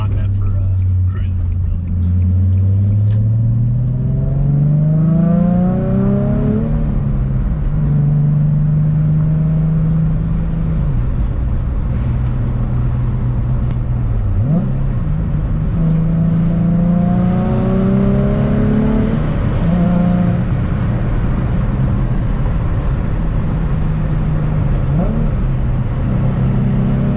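Modified 2005 Nissan 350Z without traction control, engine heard from inside while driving, revs climbing through repeated acceleration pulls with gear changes, loud and close with a steady road rumble underneath.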